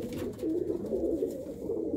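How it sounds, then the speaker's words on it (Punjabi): A white-eyed female racing pigeon coos in a low, continuous throaty murmur, very close and alone. "ਇਹ ਵੀਰ ਨੇ ਇੱਕ ਕਬੂਤਰੀ ਫੜੀ ਆ ਜੀ ਚਿੱਟੀਆਂ ਅੱਖਾਂ ਦੀ ਕਬੂਤਰੀ ਆ ਜੀ"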